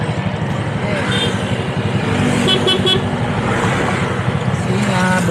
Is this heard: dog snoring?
no